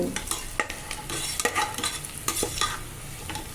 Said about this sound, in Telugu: ఇప్పుడైతే ఉల్లిపాయలు వేగుతున్నాయి కదండి